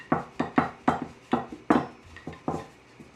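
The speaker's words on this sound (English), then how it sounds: "I'm going to grab my rolling pin" A rolling pin is handled on a kitchen counter while gluten-free noodle dough is prepared, giving a quick series of about nine light, close knocks and clatters of wood and utensils.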